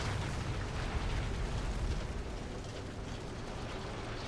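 Bombs explode in the War Thunder combat game, a dense, roaring rumble of blasts and rattling battle noise that stays loud and continuous throughout.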